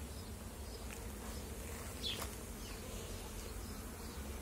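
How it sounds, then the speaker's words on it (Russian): Honeybees buzzing steadily at a small apiary, a constant close swarm drone with a few louder individual passes, no voices. "Пчелки работают, занимаются своим делом."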